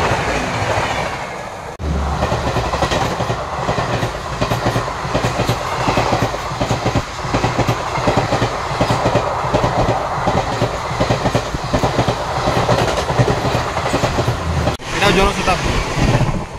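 A passenger train rolls along the rails near Panipat Junction, with a loud steady rumble and rhythmic clickety-clack of wheels. Voices can be heard faintly under the rolling noise.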